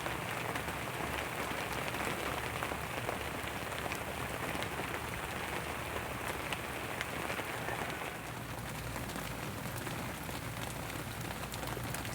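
Steady, dense rainfall pattering on surfaces in a chili pepper field, continuous and fairly loud throughout with no voices.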